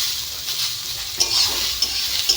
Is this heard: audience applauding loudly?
no